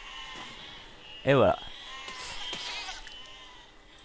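Sheep bleating in the physics-sandbox video game Besiege, a single loud wavering bleat followed by fainter bleats, with someone speaking briefly over the game sound.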